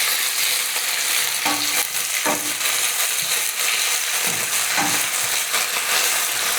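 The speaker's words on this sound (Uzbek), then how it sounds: "ismaloqlarni sovuramiz, shpinatlarimizni. Aralashtiramiz." Spinach frying in a pan while being stirred, giving a steady sizzle with scraping strokes from the stirring at intervals, close and loud with no talking.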